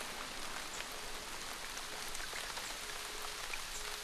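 Heavy rain pours on a Cuban forest as a steady, even hiss of dense drops, soft and distant, continuing without a break.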